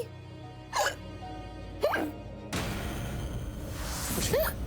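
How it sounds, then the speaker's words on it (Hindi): Repeated sharp hiccups from a woman in a tense household scene of a Hindi TV drama, three distinct hiccups spaced about a second apart, with a rising background rumble of music in the latter half. "तुझे इतनी हिचकी क्यों आ रही है?"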